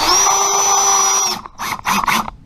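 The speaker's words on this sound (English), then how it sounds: "And when we're screwing in our drywall," A power drill driving screws into drywall: a loud, steady high-pitched motor whine for over a second, then several short bursts as the screw is run in and stops.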